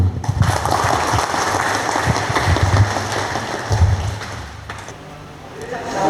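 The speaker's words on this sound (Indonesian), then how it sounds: "Tepuk tangan dulu." Audience applause following the end of a leadership and character training talk for bank staff, a dense steady roar of clapping lasting throughout with crowd voices mixed in.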